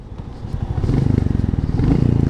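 A Royal Enfield cruiser motorcycle with its stock exhaust runs loud and near, a deep throbbing engine note pulsing steadily and building slightly as it revs.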